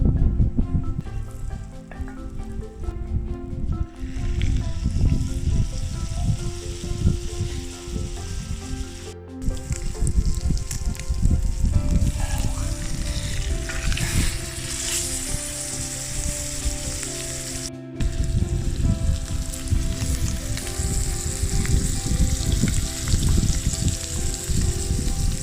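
Lamb steak fries in butter in a steak pan over a wood fire outdoors, giving a loud, steady, close crackling sizzle that runs throughout with brief dips.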